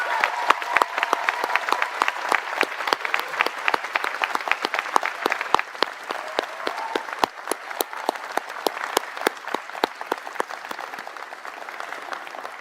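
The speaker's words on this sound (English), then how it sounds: "Let's give them a round of applause." Audience applause at a college convocation ceremony, with sustained crowd clapping from a large hall and sharp individual claps standing out, steady and continuous throughout.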